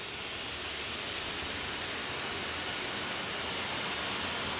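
A Boeing 737-800 jet airliner's engines roar as a broad, steady rushing drone, loud and constant from nearby at an airport, with no voices.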